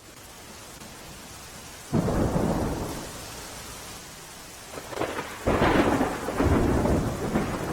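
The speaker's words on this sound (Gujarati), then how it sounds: "જિલ્લામાં સાર્વત્રિક વરસાદ થઈ રહ્યો છે" Heavy rain pours steadily during a Gujarat monsoon storm, broken by loud rolling thunder that bursts in near the start and again later, rumbling on under the hiss of the downpour.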